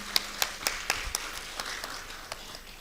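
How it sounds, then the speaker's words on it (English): Scattered applause from a small colloquium audience, a handful of distinct claps spaced irregularly across the room, faint and thin without cheering or voices. "Can we please give him a round of applause once again?"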